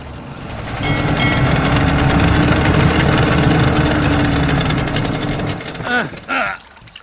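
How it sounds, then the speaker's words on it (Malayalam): A boat engine idles with a steady low rumble throughout, while people talk over it toward the end. "ബോട്ട് വരുന്നുണ്ട്, നിങ്ങൾ പൊക്കോ."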